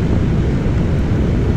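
Steady, loud, broadband rumble inside a Garuda Indonesia airliner cabin shortly before landing, a constant low roar with no voices.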